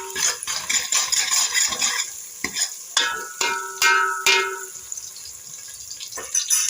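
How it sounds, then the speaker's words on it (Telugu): Sliced onions, green chilies and curry leaves fry in a pan for a village-style fish curry, with a constant close sizzle broken by scraping spoon strokes as they are stirred. "ఆనియన్ పచ్చిమిర్చి వేగుతున్నాయి కదా"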